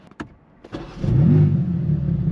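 A 2025 BMW M4 CS engine cranks and fires up after a couple of clicks, settling into a deep, loud idle rumble close by.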